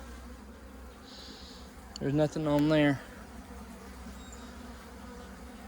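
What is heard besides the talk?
honeybees buzzing around hive frames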